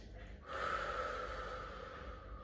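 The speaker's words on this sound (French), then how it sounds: "On inspire par le nez et on expire par la bouche." Breathing during a relaxation exercise: a steady, fairly close airy exhale through the mouth, lasting about two seconds after a brief quieter intake, with no talking.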